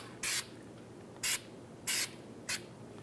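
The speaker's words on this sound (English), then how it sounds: "Just going to spray some anti-seize on here." Four short, sharp hisses from an aerosol can of anti-seize, sprayed onto a front wheel hub of a Volkswagen Beetle, spaced unevenly, close to the microphone with quiet in between.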